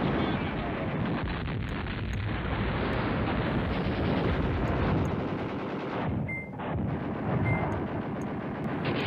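Airstrike explosions in the Command Ops 2 war game, a continuous dense roar of blasts and rattling fire that stays loud throughout, with a brief dip near the end, while someone talks over it.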